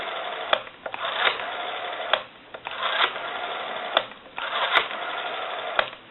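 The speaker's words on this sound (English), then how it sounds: "We'll go ahead and dial our numbers." A Western Electric 302 rotary telephone dial is turned and let go several times, each spin ending in a sharp click followed by a buzzing stretch as it returns, heard close and clear through a band-limited line.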